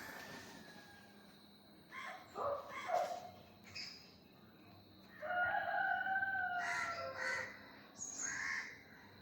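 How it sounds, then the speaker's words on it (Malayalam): Assorted birds calling in a backyard, with crows cawing and a rooster-like call among repeated bursts of chirps and squawks, some near and some farther off, over quiet background. "അത്യാവശ്യം എല്ലാ ടൈപ്പ് പക്ഷികളുണ്ട് കേട്ടോ."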